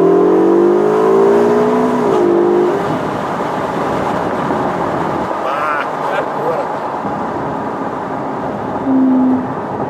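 A Ferrari California T accelerates at full throttle around Maranello, and its engine note climbs in rising whines before settling into a loud, sustained roar. People talk inside the car over the engine.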